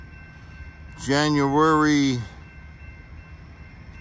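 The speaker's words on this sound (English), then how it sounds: "The Q train is arriving from Quincy, Illinois, on the mighty Mississippi, the Amtrak Illinois Zepher," Amtrak Illinois Zephyr passenger train arriving at the Metra/Amtrak LaGrange Road station in LaGrange, Illinois, on a winter morning, sounding one loud, sustained chord horn blast of about a second, with a faint voice heard afterward.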